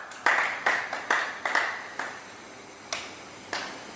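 During an ITI electrician class's practical on godown wiring with a two-way switch, a few people clap. Sharp, separate hand claps come in a quick cluster, then thin out into a couple of isolated claps in a quiet room.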